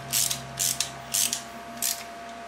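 A ratchet wrench snugging small bolts on a John Deere 350B bulldozer engine during a rebuild, four short bursts of close, crisp clicking at an even rhythm.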